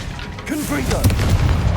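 A Confringo fire spell bursts in the video game Hogwarts Legacy, a short booming blast with a rumbling tail, loud and close over game sound with some voice.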